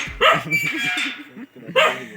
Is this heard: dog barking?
yes